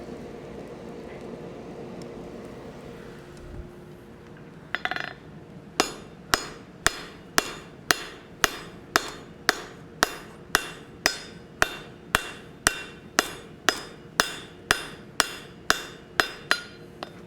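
Hot steel being forged by hammer on an anvil while squaring up a cross for a forging hammer: after a quiet stretch, loud sharp ringing blows fall in a steady, evenly spaced rhythm, about two per second, close and alone.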